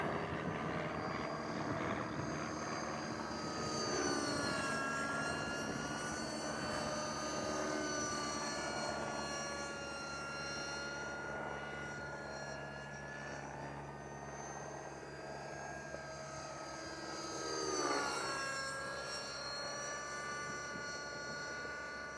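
T-REX 600 RC helicopter banking through a right turn, its rotor and motor whine steady and fairly distant, pitch sliding up and down as it maneuvers, with no talking.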